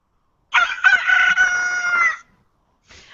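A rooster lets out one loud, close cock-a-doodle-doo crow lasting under two seconds, followed by a faint trailing sound after a short silence, with no talk.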